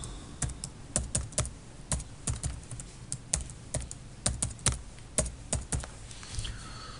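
Steady bursts of keystrokes on a computer keyboard as a password is entered twice while creating a test user account, crisp and close, with a short pause midway and no talking.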